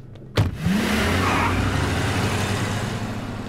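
A car engine starts with a sharp burst, then revs and runs loudly and steadily, with a rising whine, as someone shouts for the car to be moved on a street in a Hindi comedy scene.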